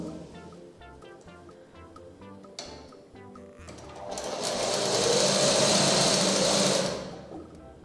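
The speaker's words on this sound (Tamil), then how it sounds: "ஒரு ப்ரெஷர் ஃபுட் அளவு நீங்கள் ஓரமாக அப்படியே தையல் போட்டுருவோம்." A sewing machine stitches a seam along the edge of fabric at a pressure-foot width, its motor rising to a loud, steady whir from about four to seven seconds over quieter background music.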